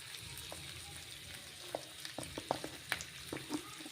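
Sugar sizzling in a frying pan while cooking paneer with raisins, a soft steady fry broken by scattered crackles and pops that grow busier toward the end, close and fairly quiet with no talking.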